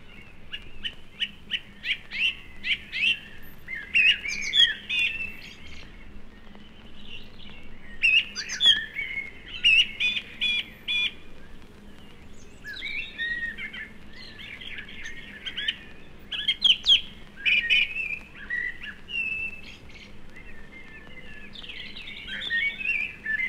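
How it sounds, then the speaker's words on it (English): Blackbirds, thrushes and robins sing together in British woodland in March, a dense and continuous chorus of overlapping whistles, trills and chirps at moderate distance, with no voices. "Now blackbirds, thrushes and robins dominate the woodland scene."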